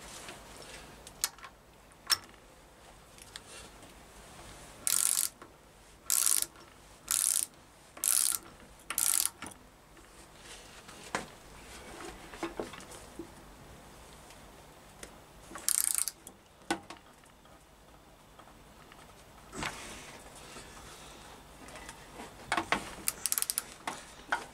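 Torque wrench ratcheting and clicking as a shiny stainless replacement bolt is tightened to 29 foot-pounds during a Reliant 850 trike engine bottom-end rebuild; a run of sharp, evenly spaced clicks, then a few scattered ones, close and fairly quiet.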